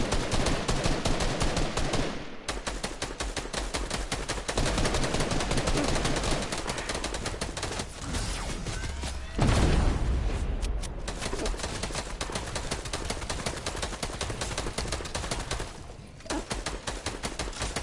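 Sustained gunfire as characters shoot, dense rattling bursts of automatic fire continuing almost without pause for many seconds, with brief gaps between volleys and no speech over it.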